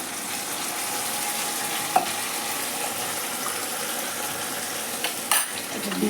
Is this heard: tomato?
yes